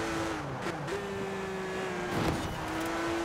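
A car driving in the racing game Forza Horizon 4, a steady engine drone holding pitch with slight shifts, continuous and fairly loud, without speech.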